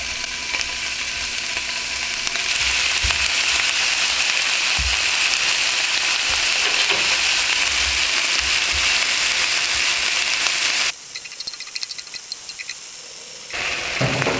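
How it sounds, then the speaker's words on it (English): Lamb searing in batches in a hot pan, a loud continuous hiss and crackle sustained for many seconds, briefly dipping before resuming, with no voices over it. "I want to get a nice sear on it, and you can hear it."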